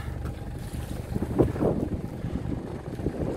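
A boat under way leaving its mooring at Oban under blue skies, a low steady rumble of hull and water with wind buffeting the microphone, moderately close and without talk.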